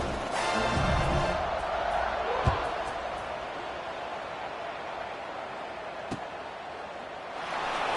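A football stadium crowd produces a steady, distant roar of cheering that fills the whole stretch, swelling slightly at the start and end, with a couple of faint thumps and a commentator talking over it.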